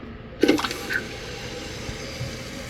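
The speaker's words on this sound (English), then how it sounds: "Okay, water's filling up." A toilet tank refilling after its flush valve and flapper were replaced: a brief splashing gurgle, then a steady, moderately loud hiss of inflowing water, heard close with no talk.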